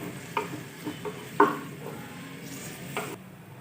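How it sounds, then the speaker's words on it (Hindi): Finely chopped onions frying in half a cup of oil for an aloo biryani masala, a steady soft sizzle broken by scrapes and clacks of a spoon stirring the pan, close and unaccompanied by talk. "ऑयल डालेंगे आधा कप। 2 बारीक चॉप किए हुए प्याज ऐड करेंगे। प्याजों को अच्छी तरह गोल्डन कर लेंगे।"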